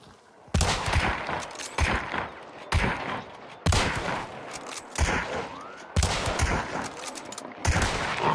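A rapid string of sharp popping bursts from decoy firecrackers in Hunt: Showdown crackles in several loud volleys, separated by brief pauses.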